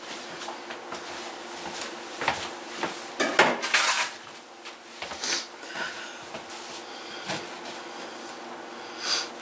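Maple sugar being cut up in a kitchen: a knife knocks and scrapes on a plate or board in scattered, irregular clicks and clatters, close and moderately loud, with no talking.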